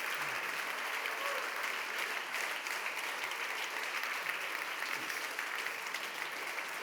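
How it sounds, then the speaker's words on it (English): An audience at the Sanctuary Wildlife Awards 2023 ceremony in Mumbai claps in sustained, dense applause, a steady wash of hand claps from a large crowd heard at a moderate distance. "Let's give them the thunderous applause that they deserve."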